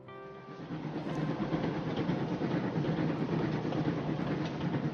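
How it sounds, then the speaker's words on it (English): A train rumbles along the rails with a dense, steady roar and faint rhythmic clatter, loud and continuous throughout. "Fogg, Mrs. Aouda, Passepartout and Fix get on the train that evening."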